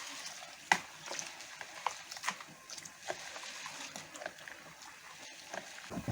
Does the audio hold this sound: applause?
no